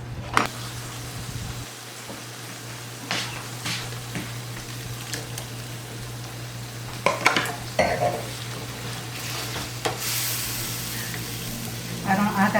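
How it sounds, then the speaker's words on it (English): Vegetables cooking down in a pan for Puerto Rican paella, a soft continuous sizzle broken by clinks and scrapes of utensils against the pan, with occasional voices nearby. "let's let the veggies boil down a little."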